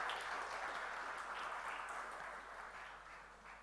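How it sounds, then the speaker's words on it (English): A startup accelerator demo day audience claps for the graduating class, a faint, distant, steady round of applause that tapers slightly toward the end. "Can we please have a huge round of applause for the graduating class?"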